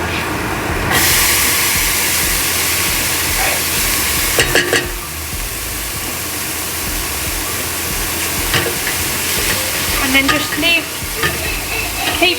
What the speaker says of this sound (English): After frying the onion for a couple of minutes, I'm then going to add in the garlic and the green peppers.